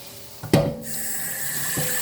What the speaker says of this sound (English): so I'm just going to drain that liquid